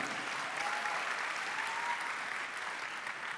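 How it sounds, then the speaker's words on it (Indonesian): Sustained audience applause fills a conference hall, steady broadband clapping from a large crowd at an even level throughout, with no speech over it. "berikan tepuk tangan kepada Dr. Dino Patijalal."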